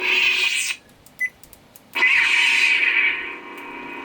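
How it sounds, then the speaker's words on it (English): A Mace sound font on a custom Neopixel lightsaber hums loudly with a bright electric whine, pauses with small clicks and chirps, then ignites again into a sustained buzzing hum. "that's a Mace sound font"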